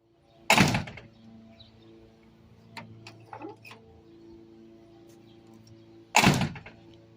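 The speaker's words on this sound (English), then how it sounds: "the infamous C10 door. Gotta fix that too. Shouldn't have to slam it that hard." A Chevrolet C10 truck door is slammed shut twice, about six seconds apart, each a loud, close, heavy thud, with quieter clicks and rattles of handling in between.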